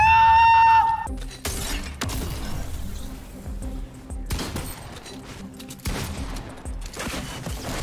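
Pump shotgun blasts in Fortnite ring out as loud, sharp bursts at several points, with a sustained tone opening the scene and other game noise and effects filling the gaps between shots.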